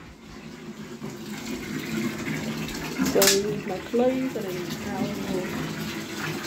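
Bath water runs steadily into a tub, a constant close rushing hiss under a person talking.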